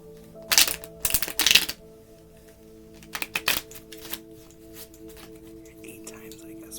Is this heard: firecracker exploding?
no